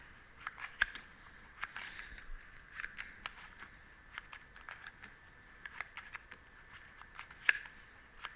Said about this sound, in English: And then I have to shuffle.